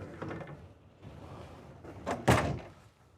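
A solid interior door inside a Newmar Mountain Aire motorhome swings shut with a firm thud after some faint handling rustle, close and alone.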